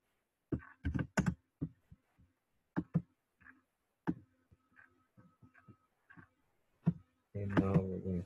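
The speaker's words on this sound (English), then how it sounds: "if I type again" Typing on a computer keyboard: scattered, quiet key clicks in irregular bursts, followed at the end by a louder, denser stretch of noise.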